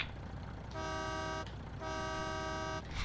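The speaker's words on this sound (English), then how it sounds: "honk." Two long blasts of a semi truck's horn in Farming Simulator 19 sound loud and close over a steady engine idle, separated by a brief gap.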